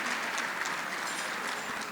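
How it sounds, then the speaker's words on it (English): Audience applause at the HEART Gala Awards: dense, steady clapping from a large crowd filling a hall, sustained at an even level throughout. "That certainly deserves a big round of applause."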